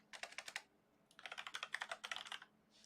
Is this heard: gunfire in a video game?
no